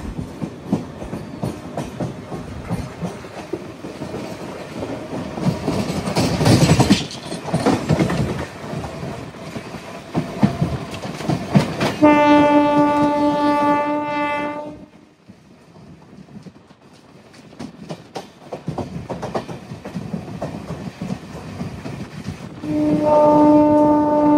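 A moving passenger train built at Rail Coach Factory Kapurthala in November 2018, heard from on board as a rhythmic clickety-clack of wheels over rail joints with rumbling carriage noise, broken by loud horn blasts partway through and again near the end.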